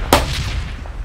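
A single sharp video-game gunshot cracks out in PUBG: Battlegrounds, followed by a low rumbling tail and another burst starting at the very end.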